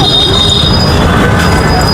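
A metro train pulls into a station in Jaipur with a loud, steady rumble and a thin, high wheel squeal running throughout.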